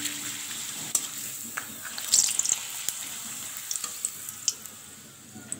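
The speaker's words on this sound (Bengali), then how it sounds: "পাঁপড়গুলোকে আমি ভেজে নিচ্ছি" Small papads frying in hot oil, a close crackling sizzle with scattered sharp pops and bubbling bursts, strongest in the middle and easing toward the end, without talk.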